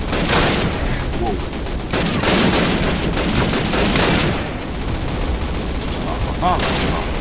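Rapid gunfire in the Call of Duty 1 video game during the Operation Overlord mission, loud repeated bursts of shots with short gaps between volleys.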